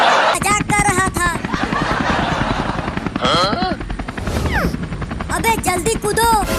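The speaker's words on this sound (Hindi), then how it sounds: "अबे जल्दी कूदो, ये हेलीकॉप्टर गिरने वाला है।" Helicopter rotors thump in a steady rapid beat, loud and close, with voices shouting over the roar.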